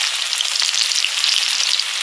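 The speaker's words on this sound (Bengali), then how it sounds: "পাট পাতাগুলো বড়া ভেজে নিচ্ছি" Jute leaf fritters deep-frying in oil, a loud, dense, close bubbling sizzle that holds steady without a break and with no voices.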